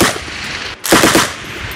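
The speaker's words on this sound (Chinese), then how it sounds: "枪声大作" Gunfire in Ukrainian trenches near Bakhmut, loud and close, with a sharp automatic burst, a brief pause and then another rapid rattle of shots.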